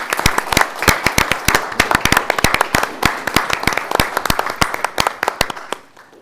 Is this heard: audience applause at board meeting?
yes